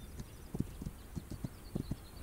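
A horse in the video game This Land Is My Land clip-clops at a steady pace, its muffled hoofbeats coming in quick pairs over a constant background hum.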